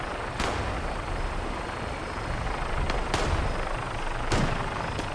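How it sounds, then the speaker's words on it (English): Gunfire in Fallout 76 as many weapons shoot at a single enemy, several sharp reports spaced irregularly over a continuous rumbling battle din, with no voices. "Everything is shooting at this guy."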